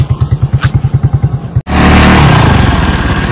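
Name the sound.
motorcycles being ridden in to park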